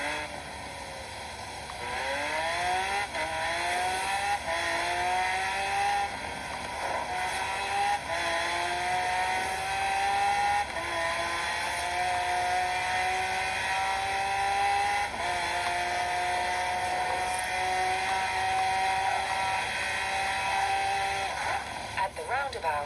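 A car engine in Forza Horizon 4 drones and climbs steadily through its gears while driving toward a city area, the revving loud and continuous with faint game sounds behind.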